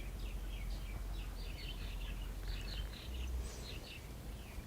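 Birds singing outdoors in Hawaii, faint repeated chirps and trills over a low background rumble, distant and soft.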